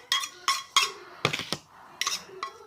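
Metal spoon clinking and scraping in a small bowl while a spoonful of soaked masoor dal paste is taken for a face pack, with several sharp taps and scrapes in an uneven rhythm, close and fairly quiet.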